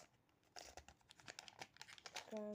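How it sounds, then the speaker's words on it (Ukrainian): A small plastic packet being cut open with scissors, giving a run of close crinkling and rustling with sharp snips and tearing, ending in a brief electronic beep. "І так, я хочу відкрити ось цей пакетик, де Женя нам підкліпила."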